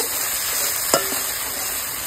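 Masala for tengra fish tel jhal sizzles steadily in a pan as a little water goes in, with a brief sharp clink of utensil near the middle and a soft stirring scrape after it.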